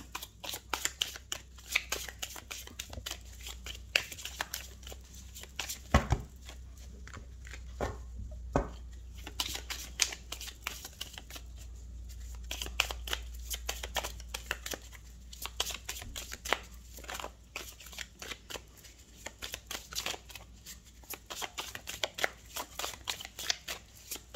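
Tarot cards being shuffled by hand, a dense, steady run of crisp riffling clicks and slaps that continues nearly without pause, close and moderately loud.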